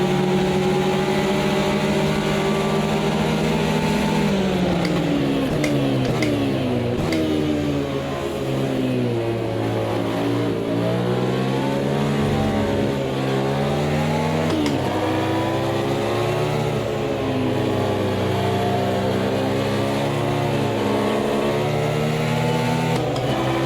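Massed race car engines roar together at the start of an Automobilista 2 race, a dense, continuous drone of overlapping revving engines with rising and falling pitch, loud and steady throughout with no talk.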